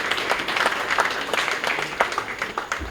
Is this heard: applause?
yes